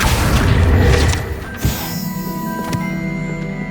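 A Confringo explosion spell in the video game Hogwarts Legacy: a loud booming blast that fades into ringing magical tones and ambient game sound, with a second smaller impact midway.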